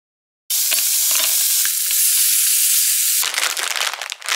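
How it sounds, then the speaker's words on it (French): Ratatouille vegetables hit a hot frying pan with a sudden loud, steady sizzle, then stirring breaks the hiss into rougher crackling and scraping. "Je les fais cuire à la poêle, moi."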